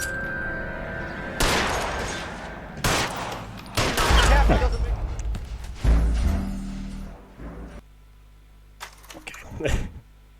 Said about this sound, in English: we're supposed to shoot him one more time, shoot him 3 more times